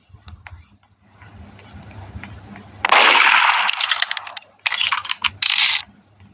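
Gunfire in the Roblox game Murder Mystery 2, a loud run of sharp, clustered bursts of cracks and clicks that starts after a quieter stretch and comes in three dense bouts close to the mic.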